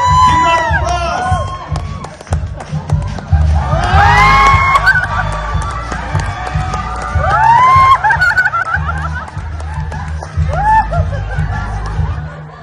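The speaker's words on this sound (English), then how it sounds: "Contestant number 3 from PMH. Give her applause." An audience at a contestant pageant roars with sustained cheering, shouting and laughter, loud and dense throughout, with excited voices calling out over the crowd.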